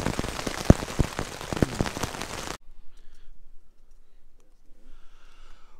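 Rain patters onto a tent in winter woodland, a dense close drumming of drops for the first few seconds that then stops abruptly, leaving near silence with a few faint distant sounds.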